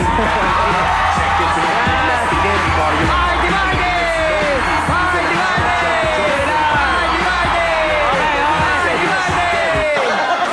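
A game show studio crowd cheers, yells and whoops loudly and continuously, with a bright, sustained roar of many voices throughout.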